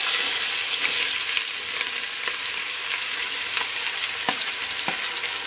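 Four large onions drop into hot oil already crackling with cumin for egg biryani, producing a loud, steady, close sizzle with faint stirring scrapes and scattered small pops, and no talking.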